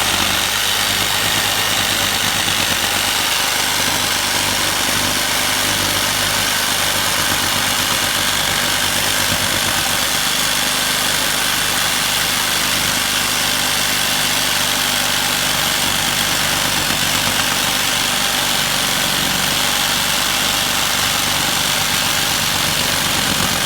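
A power saw cuts wood for a pergola, its motor holding a loud, continuous whining drone with little change throughout and no voices.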